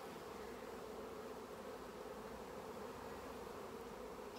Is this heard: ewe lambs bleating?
no